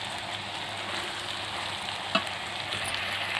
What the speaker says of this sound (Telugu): సాల్ట్ వేసుకొని తిప్పుకున్నానండి వేగుతున్నాయండి దొండకాయ ముక్కలు